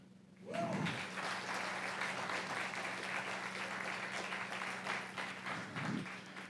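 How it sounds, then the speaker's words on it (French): A large lecture audience gives the museum team an immense round of applause, a dense, steady clapping that swells in within the first second and holds loud to the end. "Une immense salve d'applaudissements pour l'équipe du musée"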